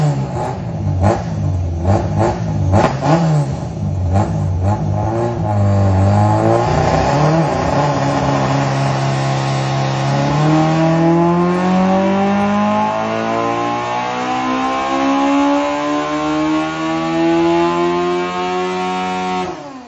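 A naturally aspirated Toyota AE86 engine revs hard on a dyno toward 11,000 rpm, loud and close, with repeated climbs and a long sustained high-rpm scream, no talking.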